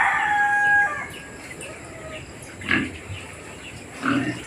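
Farm chickens and pigs at a gamefarm give a close rooster crow at the start, followed by scattered grunts and clucks at moderate volume, with no talk.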